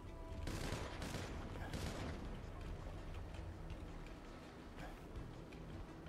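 Bursts of gunfire and booming blasts in GTA Online's Juggernaut mode, loud and dense at first and then thinning into scattered shots over a rumbling background.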